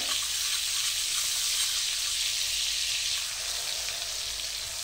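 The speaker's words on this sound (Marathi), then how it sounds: "2 चमचे लसणाची पेस्ट घालून घेतलेली आहे आपण त्याच्यामध्ये आणि हे जरा चांगलं भाजून घेऊया" Garlic paste fries in a pan for pav bhaji with a loud, steady sizzle that runs unbroken throughout.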